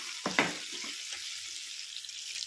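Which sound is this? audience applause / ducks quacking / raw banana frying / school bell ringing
raw banana frying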